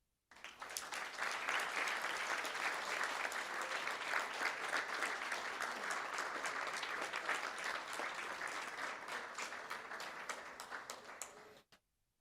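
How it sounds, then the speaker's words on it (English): A school board meeting audience gives sustained, full applause honoring National Merit Commended Scholars, a dense, even wash of clapping that holds steady for over ten seconds and then cuts off. "Let's give them one more big round of applause"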